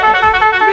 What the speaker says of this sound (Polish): Przetestować w boju nasz klakson